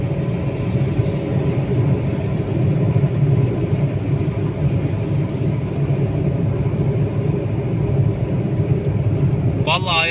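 A Renault Clio 1.0 SCe held at full throttle, a loud steady engine drone and road rumble from inside the car, with a voice cutting in briefly at the end.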